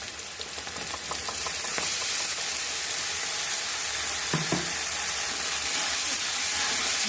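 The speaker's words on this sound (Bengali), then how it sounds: "এবারে আমি এতে আদা, রসুন আর কাঁচা লঙ্কা বাটার পেস্টটা দিয়ে দেবো" A paste of ginger, garlic and green chilli fries in hot oil with already-fried onion and capsicum for chicken kosha, giving a steady close sizzle and hiss broken by a few clinks of stirring.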